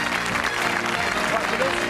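Studio audience at a 1986 television game show applauds steadily for a short burst, a dense even clatter of clapping with some speech mixed in.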